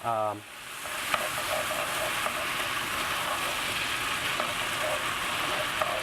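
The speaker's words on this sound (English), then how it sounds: "So we do add a cup of wine, white wine." White wine poured into a hot pan of risotto, a loud steady sizzle with stirring scrapes and small ticks throughout after a brief voice at the start.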